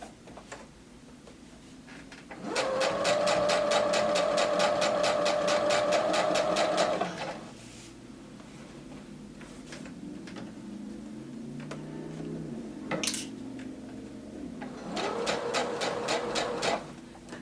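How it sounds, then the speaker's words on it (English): A sewing machine stitches a skirt pocket on a half-circle skirt, a long steady whirring run that stops, then a quieter pause with small fabric handling sounds before a second short burst of stitching. "And I'm continuing to sew until I get to this top notch in my pocket."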